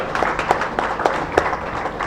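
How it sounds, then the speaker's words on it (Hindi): Applause at a yoga and natural therapy health camp, a short burst of crowd clapping with rhythmic peaks, fairly loud and near. "मैं चाहूँगी आप सब पहले जोरदार तालियां एक बार"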